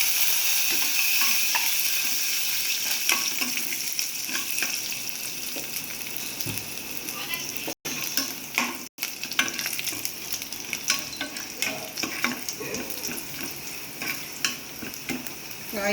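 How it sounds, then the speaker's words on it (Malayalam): Dried red chillies and garlic sizzling in hot oil for dal fry, a loud, continuous close crackle and hiss with occasional stirring scrapes, no voices. "ഇനി നമുക്ക് പായ് മുളക് കൊടുക്കാം അതിൻ്റെ കൂടെ തന്നെ വെളുത്തുള്ളി താളിക്കും"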